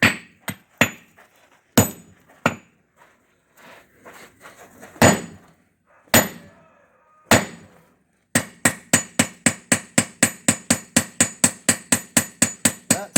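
Steady hammer blows on hot steel at an anvil while forging a bottom fuller: a few scattered strikes at first, then a fast even run of loud ringing hits.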